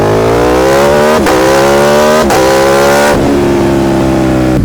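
Aprilia Tuono V4 1100 RR motorcycle engine accelerating hard at full throttle, a loud, close, continuous V4 roar rising in pitch through each gear, with three brief dips at the upshifts before climbing again.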